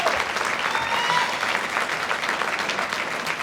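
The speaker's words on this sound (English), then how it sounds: "All righty, keep that applause going for Megan." A large banquet audience at the Wisconsin Technical College System ambassador event keeps up continuous applause. The clapping is full and steady, with no break.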